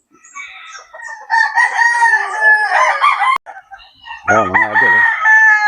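Roosters crow loudly in a backyard gamefowl breeder yard, one long cock-a-doodle-doo followed by another close crow after a brief gap, with a few clucks and someone speaking briefly over them.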